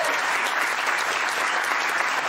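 An audience applauses for actress Michèle Laroque and a singer at a film presentation, dense, even clapping filling the whole stretch without pause.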